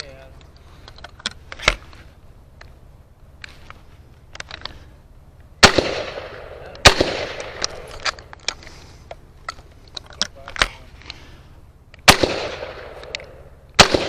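Rifle shots ring out at a cowboy action shooting match, several sharp cracks spaced a second or two apart with a few louder, nearer reports among fainter pops, over a low outdoor rumble and occasional voices.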